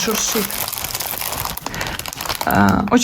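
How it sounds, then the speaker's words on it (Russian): Plastic packaging from an embroidery kit crinkles and rustles in handling, with bursts of crumpling close to the microphone, then voices speaking over the crinkling. "пакет от паны, поэтому быстренько показываю превью и уберу, чтобы не шуршало"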